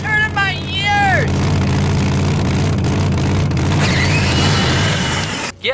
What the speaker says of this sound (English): there's a monster truck here, and he's got super loud pipes